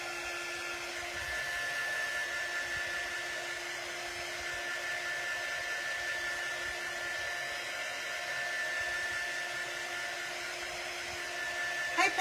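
A hair dryer runs continuously with a steady whine and airy hiss while drying a craft project, holding an even level throughout with a faint tonal hum.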